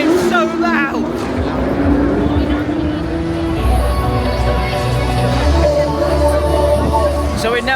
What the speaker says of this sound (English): is that a Ferrari? That's not even the F1 cars yet. It's so loud.